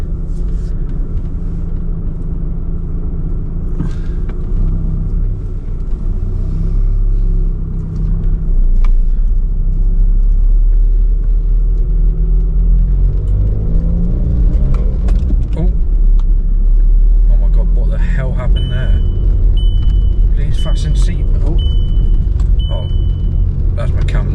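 A VW Golf GT TDI with a misfiring engine and no boost is driven, giving a loud, constant low rumble of engine and road noise inside the car, with a voice speaking indistinctly over it.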